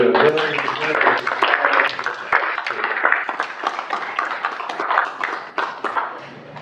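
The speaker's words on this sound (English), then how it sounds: "How about another big round of applause for Dr." Audience applause at a Chinese American WWII veterans ceremony, a dense run of clapping from a crowd, sustained and fairly loud, with voices mixed in.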